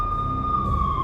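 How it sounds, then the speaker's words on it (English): A steady, high electronic police siren tone in the video game Max Payne, drifting slightly in pitch, held continuously over a low rumbling background. "The NYPD was closing in. I could hear the sirens. Their wail was a crescendo."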